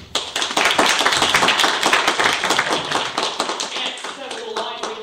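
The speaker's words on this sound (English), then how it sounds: "Give them a clap." A classroom audience claps for volunteers: a dense burst of hand claps, loud and close, fading gradually over several seconds while voices carry on underneath.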